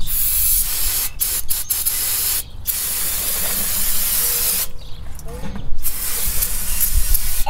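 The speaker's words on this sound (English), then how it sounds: "I'm going to just give it a spray from out here." Hissing bursts of aerosol spray while changing the transmission fluid and filter on a Mercury Grand Marquis, broadband and loud, several sprays in a row with brief breaks between them.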